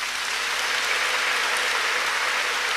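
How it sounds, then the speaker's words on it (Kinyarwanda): Congregation at an Easter Mass breaking into steady, dense applause mixed with ululation, loud and continuous throughout with no gaps. "tumuha amashyi n'impundu."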